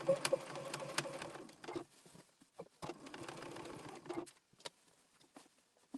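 A sewing machine stitches a patriotic tea towel in short bursts of rapid mechanical patter, pausing often as the fabric is turned at points, then resuming; close and moderately quiet with no talk.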